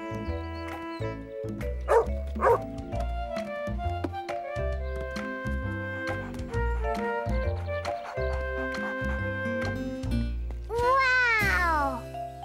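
Dogs bark and yip playfully in an animated children's cartoon scene, repeated sharp barks over bright background music, with a rising whimper-like sweep near the end.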